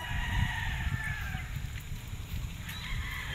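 Roosters crow faintly in the distance at a game fowl farm in Tanauan, Batangas, their calls layered over a steady low rumble of wind and outdoor noise.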